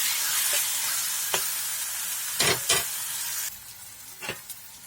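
Turmeric, chilli, cumin and coriander powder fry in hot oil for a fish curry, a steady loud sizzle with a few sharp spatula scrapes of stirring, no voices.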